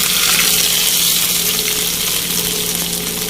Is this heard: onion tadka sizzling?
yes